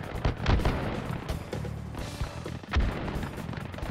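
Gunfire in the VR shooter Hot Dogs, Horseshoes & Hand Grenades, several sharp close shots with booming echoes, spaced irregularly over a low background.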